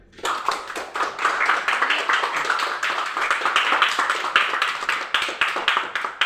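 Classroom applause for a student: many hands clapping together in a dense, steady patter lasting several seconds, fairly close and loud, with no talking over it.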